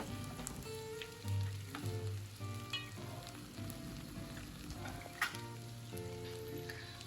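Lapsi, a sweet cracked-wheat dish, stirred in a pan with a steady sizzle and repeated scraping of a spoon through the mixture, faint and continuous with no voices.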